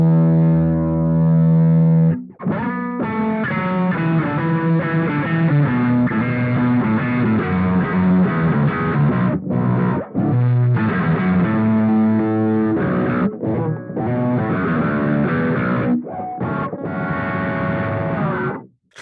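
Electric guitar played through a Boss Katana-Mini X amp with bass and baritone effects, a deep processed tone in sustained notes and chords, loud and close, with a few brief pauses.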